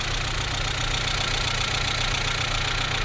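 A 1998 Audi A4 engine runs on its first start after months of sitting, a loud steady close idle with a rough knocking texture throughout and no talking.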